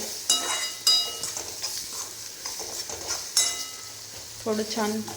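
Potato and tomato vegetable curry is stirred in a frying pan, with a soft sizzle under repeated clinks and scrapes of a spoon against the pan, close and irregular.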